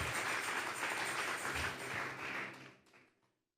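A church congregation applauds together, a dense wash of clapping held steady for about two and a half seconds before fading quickly into silence.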